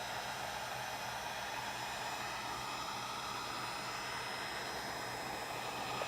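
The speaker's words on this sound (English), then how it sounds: "Man, heat gun." A heat gun runs continuously in a workshop, giving a steady, close, airy blowing hiss like a hair dryer with no breaks and no speech.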